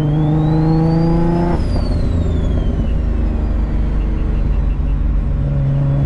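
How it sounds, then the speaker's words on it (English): A turbocharged 600-whp G35 coupe pulls under light load in third gear. A rising turbo whistle climbs over a loud, rumbling exhaust, and the pitch sweeps up and then falls away as the engine note settles. "You can actually enjoy the turbo spool, like a little bit loaded up in third."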